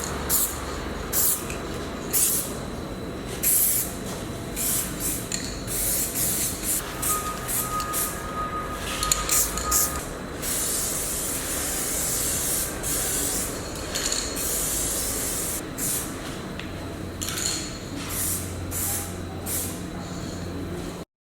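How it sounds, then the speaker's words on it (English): A spray can hisses paint and clear coat onto a car door with the handles still attached, a steady close hiss broken by short bursts and pauses between passes, with no talk. "Now I'm spraying my paint."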